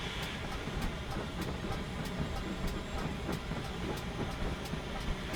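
A train runs along a railway line with a continuous rolling roar and regular, evenly spaced clicks from the rails, heard fairly close with no voices.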